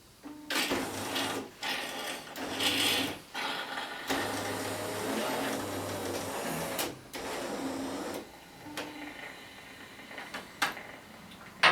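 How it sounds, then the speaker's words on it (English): A Jura ENA Micro 1 automatic coffee machine runs its rinse cycle: close mechanical whirring and pump hums in bursts, broken by short gaps and clicks. "the machine's going through a little rinse cycle"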